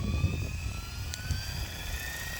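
Tron Dnamic Pro RC helicopter spinning at a low headspeed of about 1329, giving a steady low rotor drone with a faint motor whine on top, close by and continuous.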